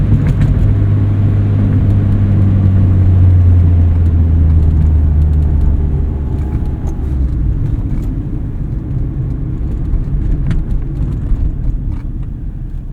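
A 1979 first-generation Honda Prelude engine revs steadily under load while driving, a loud continuous low rumble with a droning tone that eases slightly midway, heard from inside the cabin with no talking.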